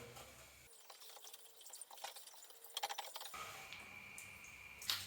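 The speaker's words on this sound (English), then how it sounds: "Give it a stir." Rust remover powder is stirred into five litres of water, giving a faint, close swishing and sloshing with a few light knocks against the container and no talking.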